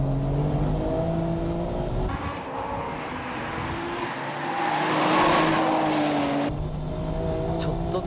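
A Porsche 996 Turbo races on a track, its engine droning and rising and falling in pitch through gear changes as it presses on, continuous and fairly loud, with a commentator's voice running over it.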